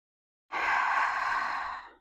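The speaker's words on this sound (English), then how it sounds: "Exhale to let it back out." A single long, steady exhale out through the nose during a guided somatic yoga breathing reset, a soft airy rush that starts abruptly and tapers off over about a second and a half, heard alone in a quiet room.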